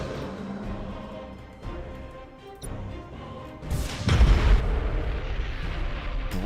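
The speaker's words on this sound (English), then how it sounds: "that was just a Slaneshi planet killer exploding" A Slaanesh planet killer blows up in a Battlefleet Gothic: Armada 2 space battle against Tyranids, a deep booming blast with a heavy low rumble that swells around four seconds over continuous battle noise and scattered weapon fire.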